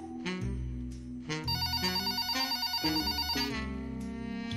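A telephone rings in a detective's office with a loud electronic ringtone, trilling repeated bursts layered over background music, close and with no one speaking.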